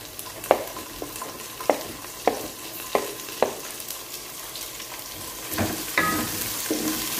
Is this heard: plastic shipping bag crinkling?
no